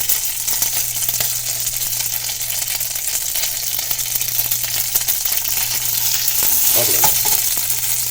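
Butter sizzles and fries loudly in a hot pan while jalapeño popper quesadillas cook, a constant crackling hiss with scattered pops and a brief clatter near the end, no voices.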